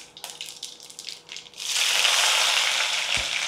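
One teaspoon each of mustard seeds and cumin hit fully heated oil for a potato, tomato and eggplant curry. A few light rattles come first, then a sudden loud, steady crackling sizzle that fills the rest.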